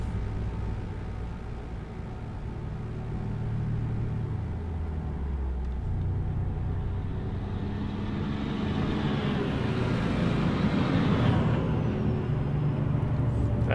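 Truck air brakes in the Euro Truck Simulator game hiss over a steady, loud engine rumble and road drone, with the hiss swelling near the end of the clip.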